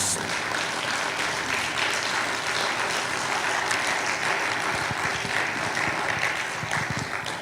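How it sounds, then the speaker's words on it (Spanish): A church congregation applauds during a sermon, producing a thick, sustained wash of clapping from many people that stays at an even, fairly loud level for over seven seconds. "Démosle un aplauso al Señor, amados hermanos."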